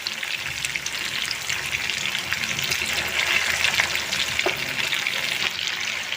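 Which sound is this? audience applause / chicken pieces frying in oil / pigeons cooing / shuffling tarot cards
chicken pieces frying in oil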